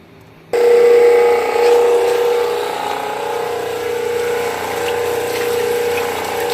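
A pump starts up and runs steadily, drawing fluid out of a tractor transmission, a continuous loud mechanical whir with a sustained hum that stays even to the end.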